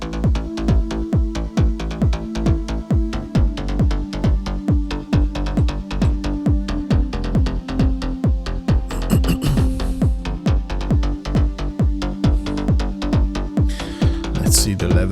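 Electronic kick drum programmed in Ableton, thumping steadily on every beat at a loud, even level under a sustained pad and other layered sounds, with brief higher noises near the end.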